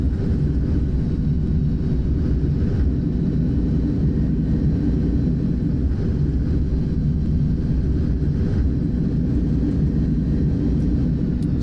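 Engines of an Airbus A310 in reverse thrust during landing roll in a flight simulator game, a loud, steady, dense roar holding without break, no talk over it.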